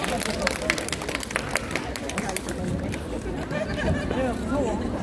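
A street busking crowd in Hongdae claps in quick, scattered bursts, with chatter and crowd babble mixing in close by.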